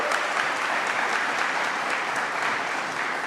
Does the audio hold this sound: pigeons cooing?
no